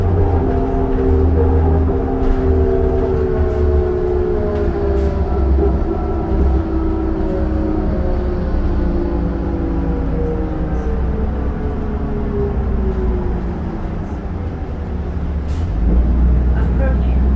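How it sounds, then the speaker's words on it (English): A 2002 New Flyer D40LF city bus on a Calgary Transit route hums with its turbocharged diesel engine, a loud steady drone with slowly rising and falling tones heard from inside the cabin. "The turbo sounds great."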